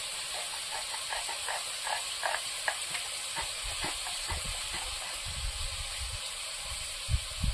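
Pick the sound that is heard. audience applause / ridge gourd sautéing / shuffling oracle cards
ridge gourd sautéing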